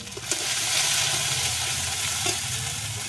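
Small parshe fish fry in hot oil with salt and turmeric, a steady close sizzle with some stirring scrapes, alone with no talk.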